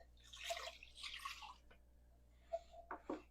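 Two cups of water tipped into a slow cooker for soup, two short splashy pours close by, followed by a few light drips and clinks, with no talking.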